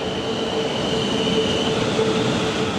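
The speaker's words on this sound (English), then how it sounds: "And coming in there is my train" A train arrives at Walton-on-Thames station, rumbling in steadily with a sustained high squeal of wheels on rails, loud and close, no voices.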